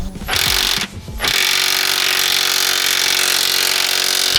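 A pneumatic air gun works on a car's subframe bolts while new subframe collars go in: a loud, close whirring rattle that pauses briefly, then runs continuously.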